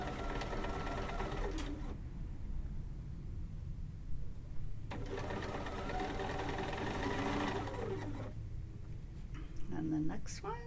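A Bernina sewing machine stitches a quilt seam in two long bursts of rapid, steady whirring, separated by short pauses, with a brief third start at the end, all close and loud.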